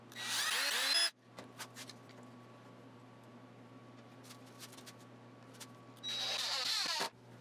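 A power drill drives a fastener into wood in a workshop, one loud whirring burst at the start and another near the end, separated by a quiet stretch with faint shop noise and a steady background hum.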